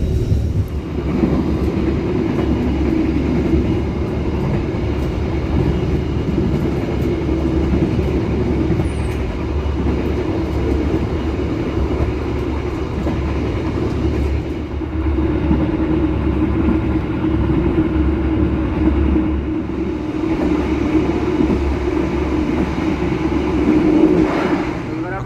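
An executive-class passenger train runs along the rails with a steady, loud rumble and a continuous clatter of wheels, heard from inside the carriage.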